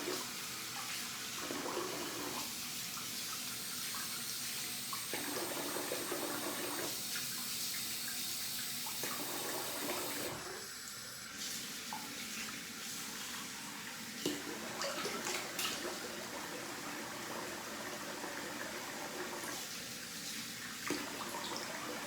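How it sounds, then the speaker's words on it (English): Running tap water pours steadily while someone rinses off after a wet shave, a soft continuous splashing with intermittent changes as hands pass through the stream, fairly quiet and close. "All right, so let's rinse off and finish up."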